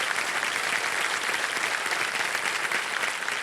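A studio audience at the KBC game show claps in sustained, dense applause welcoming a guest, loud and even for the whole stretch with no talk over it.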